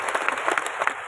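Loud crowd applause at a stadium rally in Madhya Pradesh, a dense wash of many hands clapping with rhythmic surges, continuous and close.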